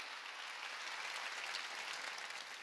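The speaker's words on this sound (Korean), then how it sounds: "박수로 하나님께 영광 돌리고" A church congregation claps together during a Sunday worship service, a dense, even burst of applause heard alone without speech.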